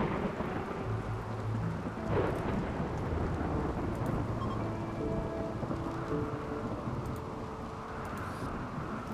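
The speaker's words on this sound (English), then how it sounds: "in the midst of this thunderstorm from hell" Heavy rain hisses steadily throughout a RimWorld thunderstorm, with deep rumbling thunder rolling underneath and a sharp crack near the middle.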